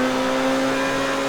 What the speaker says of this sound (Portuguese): Faz o barulho da turbina.